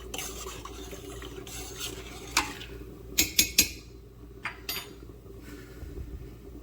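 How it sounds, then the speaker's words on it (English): Two cups of dry rice poured into a pot for Jamaican rice and peas, with a few sharp clinks and rattles against the pot and some soft stirring over a low steady background hum. "now I'm adding in my rice, 2 cups of rice"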